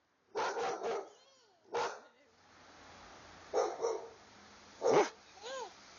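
A dog barks several times in a backyard in short uneven bursts, loud and close, with a voice and an adult's voice speaking in between.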